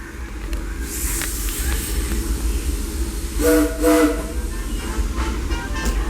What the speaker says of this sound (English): looks like this train is ready to depart again